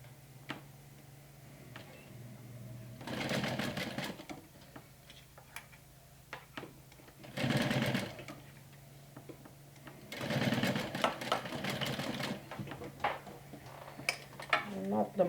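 Sewing machine stitching a small fabric mini backpack in bursts of rapid, close needle chatter separated by quiet pauses and light handling clicks.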